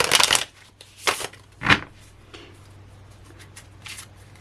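A tarot deck of fairly stiff cardstock is riffle shuffled up close: three crisp, rapid fluttering bursts come in quick succession, followed by a few softer card taps and rustles.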